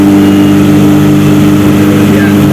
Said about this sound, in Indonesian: Ini RPM itu ketika pedal kopling diinjak gas mentok